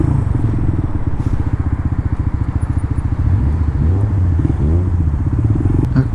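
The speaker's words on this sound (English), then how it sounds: "Motorcycles." Motorcycles, including a Suzuki V-twin, pass close by with a loud, steady engine rumble and throbbing low pulses that stay strong throughout, no talking over them.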